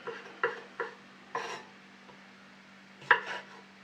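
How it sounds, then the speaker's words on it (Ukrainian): Knife chopping mushrooms finely on a board: several soft, close thuds at uneven intervals over a faint steady hum, no talking. "Наступне нарізаю гриби дрібненько."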